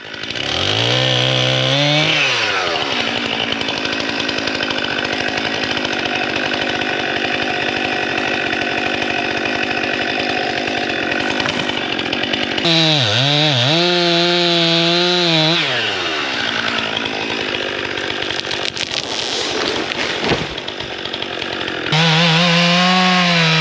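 A chainsaw cuts down small red maple trees, the loud engine revving up and down through long bogged cuts with brief idling pauses between them, close and continuous throughout.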